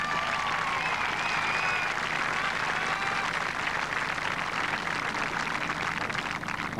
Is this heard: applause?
yes